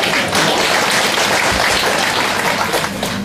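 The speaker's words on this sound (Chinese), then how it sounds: "谢谢各位稀稀拉拉的掌声" Thin, scattered clapping from a small audience at a crosstalk comedy show, a steady patter of hands lasting a few seconds, fairly loud and close.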